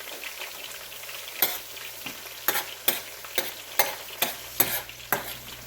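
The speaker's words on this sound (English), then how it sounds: "After the oil heats, put the chopped ginger and garlic in." Chopped ginger and garlic fry in hot oil for chicken Manchurian, giving a steady crackling sizzle broken by several sharp, close scrapes of a spatula stirring against the pan, with no voices.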